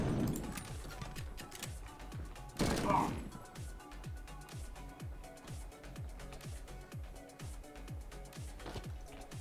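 Rapid repeated gunshots crackle in a video game, a steady string of sharp bursts with a louder crashing hit early on, moderately distant.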